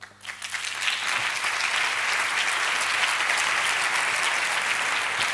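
An audience applauding at a web conference talk in Bilbao; the clapping swells quickly from a quiet start into sustained, dense applause that stays loud and even to the end, with no voices over it.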